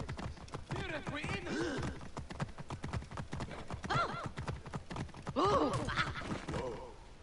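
Horse hooves clip-clop in a quick, steady rhythm, with voices and snorts mixed over the clattering beats, from the video game Assassin's Creed Origins.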